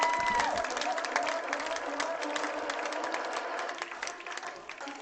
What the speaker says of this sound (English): the Cobras come out to a nice ovation from the home crowd